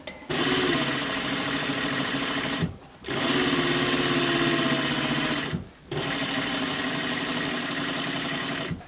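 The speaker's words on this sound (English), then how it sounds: "You're going to top stitch the edge at 1/4 inch" A sewing machine top stitches along a fabric edge at a quarter inch, running loud and steady in three long stretches split by two brief stops.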